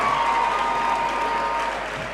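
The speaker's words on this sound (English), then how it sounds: "Let's give them a round of applause," An audience at a university National Science Week debate launch gives a sustained round of applause, a dense, steady patter of many hands filling the hall.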